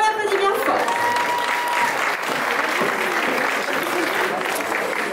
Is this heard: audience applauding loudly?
yes